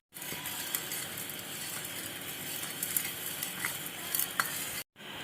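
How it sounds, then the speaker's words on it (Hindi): Milk with vinegar is stirred in a pot for sohan halwa, making a continuous soft scraping and swishing with small clicks of the spoon, fairly quiet and close, cut off briefly near the end. "चलो जी, अब इसको मिक्स कर लेते हैं।"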